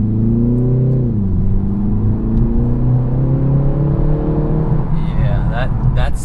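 A 2019 BMW 330i with its turbocharged engine under hard acceleration, the drone climbing steadily in pitch after a brief dip, loud and close from inside the cabin, with some talk near the end.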